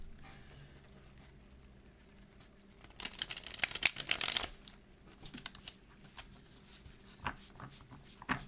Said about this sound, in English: so I can shuffle the cards